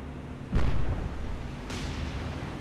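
A naval gun firing high-explosive shells in the naval combat game War on the Sea booms once loudly and close, followed by a rumbling tail and a second fainter report.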